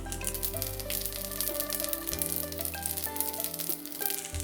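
Potstickers set into a pan brushed with cooking oil fry with a steady, fairly quiet sizzle, while low tonal hum and clatter run underneath throughout.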